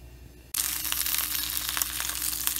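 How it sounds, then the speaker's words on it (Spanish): Bacon strips hit a hot pan and burst into a loud, steady sizzle after a brief quiet start, the crackling spitting continuously and close up. "Vamos a empezar por freír nuestro tocinito."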